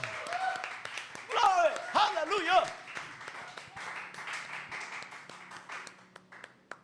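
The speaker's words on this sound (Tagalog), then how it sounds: "Kaya, sige nga, isang malakas na palakpak." During an online church service, a congregation claps loudly, with irregular clapping swelling under excited shouted praise and then continuing more thinly behind the voices.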